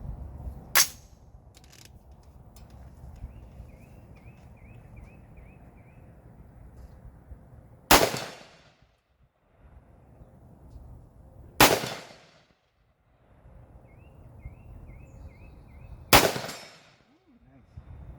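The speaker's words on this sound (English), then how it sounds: "let's take a few more shots with this thing" Four sharp gunshots ring out at an outdoor gun range, each a loud crack with a short decaying echo, spaced several seconds apart with quiet ambience and faint birdsong between them.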